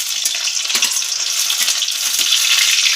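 Garlic and cumin seeds sizzle in a few spoonfuls of hot oil, a bright, crackling hiss with small popping bursts that keeps going, close and fairly loud.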